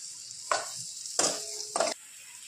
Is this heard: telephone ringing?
no